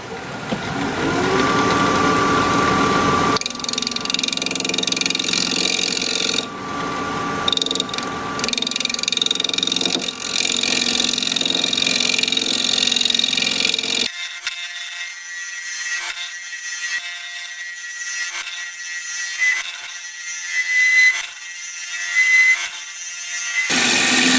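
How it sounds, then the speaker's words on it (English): A freshly sharpened 5/8 inch bowl gouge cuts a black locust bowl on a lathe spinning at 1300 RPM, a loud continuous scraping hiss with shifting tone as the tool moves across the wood. "we're still turning at 1300 RPM, 5/8 inch bowl gouge, freshly sharpened by the way."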